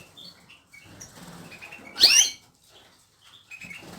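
A brief burst of wing flapping and a sharp chirp from canaries and goldfinches in a breeding aviary cage, with soft tweets and faint rustling before and after.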